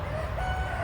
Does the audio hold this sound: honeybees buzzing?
no